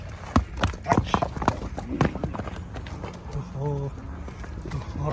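Horse hooves clop in quick uneven beats up close, with a short run of hoofbeats early on, while people talk nearby.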